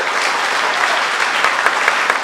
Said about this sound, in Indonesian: Beri tepuk tangan lagi buat Tuhan.